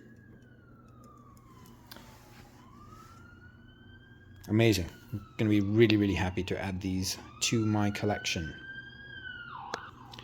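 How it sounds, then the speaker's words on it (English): A siren wails in the background, rising and falling faintly and steadily, while someone talks over it in the foreground. "And of course, you can hear the siren in the background."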